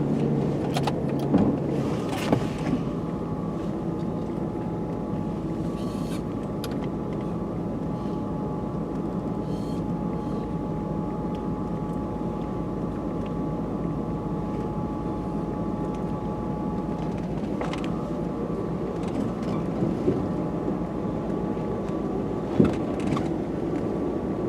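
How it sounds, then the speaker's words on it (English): A 1984 Rolls Royce Corniche Cabriolet out on a drive gives a steady, smooth engine and road drone from inside the car, continuous and fairly loud throughout, with a few faint clicks and bumps and no talking. "so we're going to go for a quick drive."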